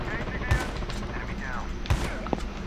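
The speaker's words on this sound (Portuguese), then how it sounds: "Vamos levando tiro, levando tiro." Two sharp gunshot bursts ring out in the mobile shooter game Call of Duty Mobile, spaced over a second apart with a smaller pop after, while a player talks over the steady game soundtrack.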